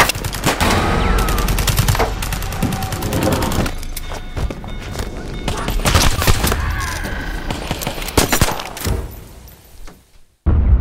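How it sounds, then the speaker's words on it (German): Rapid bursts of gunfire from the police video game DCOP ring out loud and close, with sharp clustered shots and a few thuds before the shooting cuts off near the end. "dass ihr ja gehört habt, dass ich geschossen habe"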